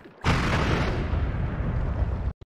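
A prolonged explosion of placed explosives in a bubble-based video game bursts in loud and sudden, roaring as a sustained rumbling blast for about two seconds before cutting off abruptly.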